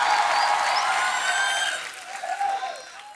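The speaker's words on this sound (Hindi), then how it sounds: "आप सबकी जोरदार तालियों के बीच इनवाइट करना चाहूंगा the very talented Arjun Kapoor and" A studio audience on The Kapil Sharma Show bursts into loud applause with whistles and cheers to welcome Arjun Kapoor and Shraddha Kapoor, the clapping dense at first and then tapering off.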